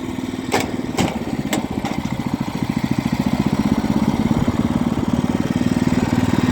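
The small engine of a mechanical log splitter runs close by at steady revs, a rapid, even putter with a few sharp metallic clicks early on, ending in a slight rise in speed.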